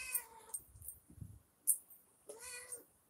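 A kitten meows outdoors by a river at dusk in two bursts, one near the start and a longer one toward the end, with soft low rustling and handling noise between them.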